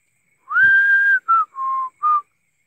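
A person whistles four clear notes up close: one long held tone, then three shorter notes in quick succession, loud and alone against silence.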